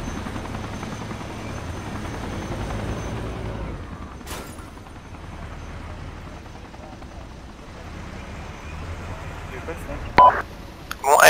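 A military helicopter in the combat game ARMA 2 drones with a steady, loud rotor and engine roar that thins out after a few seconds, followed by scattered sharp clicks and bangs near the end.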